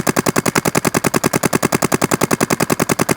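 Toy gun rapidly firing balls in a fast, even burst of about a dozen shots per second, loud and close, with no talking.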